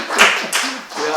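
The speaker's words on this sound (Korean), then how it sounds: "우리 박수 한번 쳐주세요" Church congregation clapping for the keyboard player: a short burst of applause in a worship service, swelling quickly and mixed with a voice talking over it.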